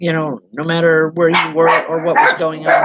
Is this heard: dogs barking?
yes